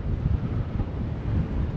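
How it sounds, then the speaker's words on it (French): Strong outdoor wind buffets the microphone at Anse à Beaufils, a loud, steady low rumble with gusty swells and no voices. "avec le vent, tout est en train de bouger"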